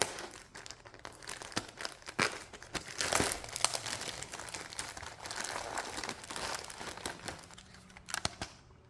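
Plastic packaging of generic iRobot dirt disposal bags is torn open and handled, giving close, busy crinkling and rustling with sharp crackles and a few tearing bursts throughout.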